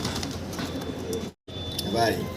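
Fancy pigeons cooing close by, soft low rolling coos heard in short bursts with a brief gap of silence midway, alongside background chatter.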